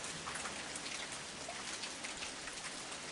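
Continuous heavy rain pattering on a surface on a cold night, steady and dense, with no voices.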